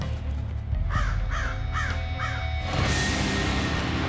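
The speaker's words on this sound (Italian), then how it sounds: "Ciao, un corvo." Crows caw in the video game Wolfenstein: The New Order, four harsh calls in a steady rhythm, fairly close and clear over a low ambient game hum, followed by a brighter burst of background noise.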